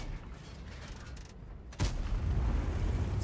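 A tank cannon shot in a video game, landing a hit on an enemy tank: a sharp, loud boom that jumps out over steady battle rumble and lingers as a heavy wash of noise.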